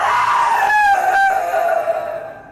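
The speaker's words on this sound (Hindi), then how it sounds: "फिर अचानक से एक चीख सभी आवाज को शांत कर देती है" A sudden scream rises out of the dark of a horror tale, loud and shrill. It cracks partway through and then fades over about two seconds, with no voices around it.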